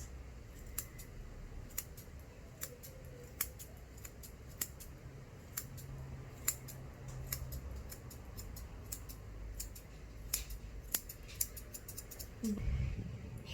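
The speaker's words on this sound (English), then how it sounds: "with my curved scissors" Curved scissors clip a dog's fur close by in crisp, quick snips during grooming, scattered irregularly over a quiet background, with a brief soft shuffle near the end.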